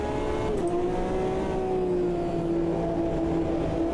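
Race car engine in Automobilista 2, multi-class racing at Laguna Seca in VR, holding a loud, steady high-pitched drone that dips slightly then sustains, close and continuous with no talk.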